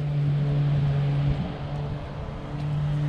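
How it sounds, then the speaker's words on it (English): A steady lawn mower engine drone hums continuously at moderate distance, dipping briefly in the middle before returning, with no voices. "Sorry about the noise, there is someone mowing their lawn."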